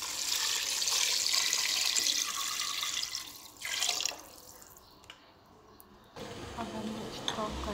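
Water running into a cooking pot for yakhni pulao chicken stock, a steady close rushing pour that eases off midway, stops briefly, then resumes with a lower sloshing fill.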